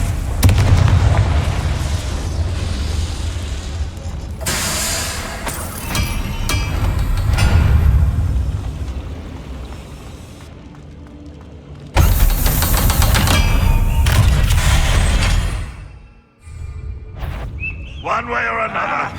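Fiery blasts from the Confringo spell in the Hogwarts Legacy video game, loud booming bursts in several long waves with a brief lull near the end.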